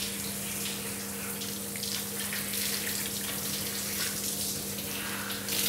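Water runs steadily from a tap or shower, rinsing clay mud out through someone's hair, a continuous close hiss of flowing water with a low steady hum underneath and no talking.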